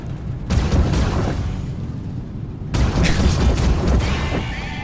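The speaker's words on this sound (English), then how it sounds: "There I finally get a shot off on him." Spaceship weapon fire during a Vanduul hunt in the space game Star Citizen, two heavy booming bursts a couple of seconds apart, each followed by a rumbling roar.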